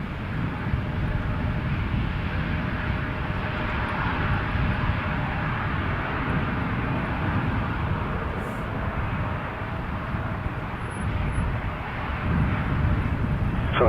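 A fixed-wing airliner at Toronto Pearson Airport roars steadily near the runway, its engine noise filling the whole stretch with a loud, constant drone and a faint tower radio voice in the background.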